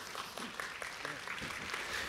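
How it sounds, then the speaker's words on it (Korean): Audience applause at a business strategy seminar, a steady dense patter of clapping welcoming a presenter to the stage, continuous and moderately loud throughout. "큰 박수 부탁드리겠습니다."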